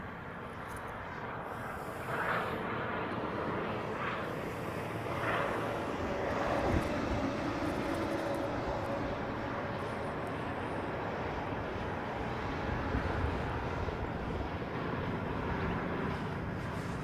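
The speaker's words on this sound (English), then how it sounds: "We're just waiting for that C5 departure." A distant C-5 military transport aircraft departing Honolulu airport gives off a steady, broad jet roar that slowly builds and holds across the whole stretch, with no talk over it.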